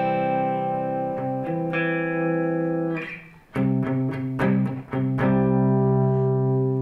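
Electric guitar with light overdrive: sustained chords ring out, then a few choppy, muted strums before another chord rings, with a slightly gritty edge.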